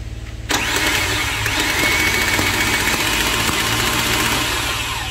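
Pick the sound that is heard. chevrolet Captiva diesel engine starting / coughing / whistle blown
chevrolet Captiva diesel engine starting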